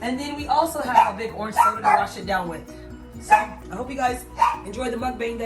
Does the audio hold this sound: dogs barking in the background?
yes